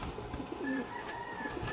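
Pigeons in a fancier's loft give a soft, low coo with a brief rising call, close by over steady background noise and faint chirps.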